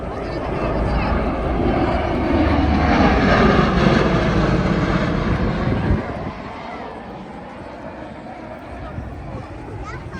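A Marine Corps MV-22 Osprey tiltrotor flies past at an air show, a loud, broad jet-like roar that swells and then drops sharply as it passes, easing to a steady fainter rumble.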